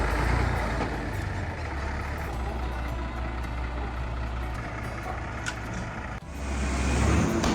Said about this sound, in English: I think I actually hear the dump truck coming.